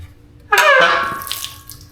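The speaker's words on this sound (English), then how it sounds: "A lot of the water coming out of it right now is where he power washed it." Water pours out of a junkyard 5.3 LS engine block, starting abruptly as a loud splashing gush that gradually tapers into a softer trickle.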